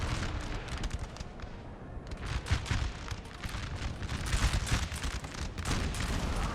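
Artillery fire in the Napoleonic battle game Napoleon: Total War, the Montmirail 1814 battle, with a continuous dense barrage of booms and crackling gunshots rolling together, loud and busy throughout.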